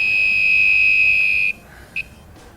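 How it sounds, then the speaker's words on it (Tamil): An Arduino Uno ultrasonic sensor alarm gives a loud, sustained electronic beep tone that holds steady, then cuts off, followed by one short beep after a brief pause. "அதே ஆப்ஜெக்ட் பக்கத்தில் வந்துடுச்சுன்னா சவுண்டு பீப் சவுண்ட் அதிகமாக கேட்கும்"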